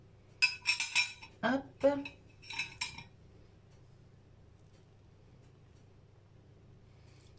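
A knife clinks and taps against a pot several times as it pierces meat that has braised for an hour and a half, close and fairly quiet, with a brief spoken word, then quiet.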